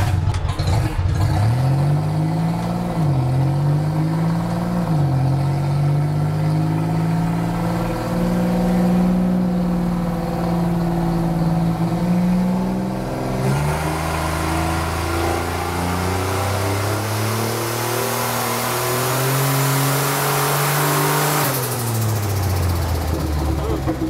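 A boosted car engine revs up steadily under load on a dyno, pitch climbing and dipping, then drops and climbs again; loud and close, with no talking.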